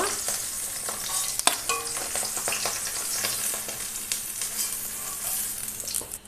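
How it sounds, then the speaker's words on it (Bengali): Fish frying in hot oil in a pan, a dense crackling sizzle up close with a few sharp spatula clinks and scrapes, continuous and without speech. "ওই তেলে আর এই জায়গাটা মাছ আছে ভেজে নেব"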